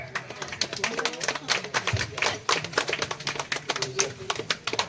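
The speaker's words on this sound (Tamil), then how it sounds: "சுரேஷ் சார் நல்ல ஒரு கைத்தட்டல் கொடுத்துடலாமே" A crowd applauds at the inauguration of an Ayurvedic healthcare center, with brisk, steady clapping throughout and a speaking voice over it.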